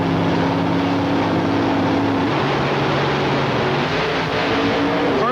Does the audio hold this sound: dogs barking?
no